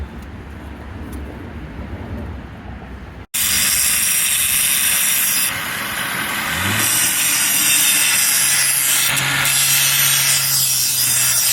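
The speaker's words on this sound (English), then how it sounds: "modifying a chisel using his own angle grinders, cutting up his own tools" An angle grinder cuts into a steel chisel, a loud harsh continuous grinding roar that starts abruptly after a quieter stretch of handling noise and holds steady with shifting pitch.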